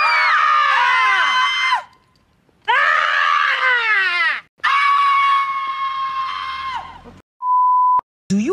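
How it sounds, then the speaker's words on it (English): A person screams in long, loud, strained bursts, three main screams separated by short silences, then a few brief electronic beeps at the end. "I can scream too."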